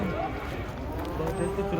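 A cow lows in a crowded, noisy setting, with people talking nearby throughout.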